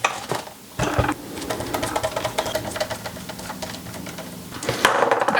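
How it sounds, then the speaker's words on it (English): Small black screws being removed from the internal WiFi board of an Xbox Series S, heard as close, irregular clicking and scraping of a screwdriver against metal and plastic, with louder handling knocks at the start and end. "So it's held on with three black screws, so we take those off."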